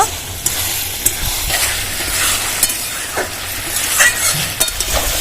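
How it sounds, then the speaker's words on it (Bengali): Ginger and cumin fry and sizzle in a pan, a close, loud crackling hiss broken by sharp clicks and scrapes as the spices are stirred. "যতক্ষণ আদা জিরের কাঁচা গন্ধ না যায় ততক্ষণ ভালো করে কষিয়ে নেব"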